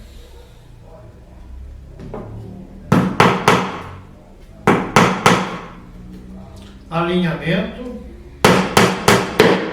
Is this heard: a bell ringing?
no